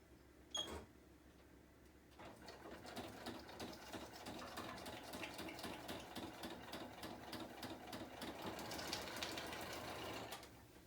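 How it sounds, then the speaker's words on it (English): A sewing machine runs steadily for several seconds with a rapid mechanical whir, preceded by a click, quiet and close. "Just going to turn my sewing machine on."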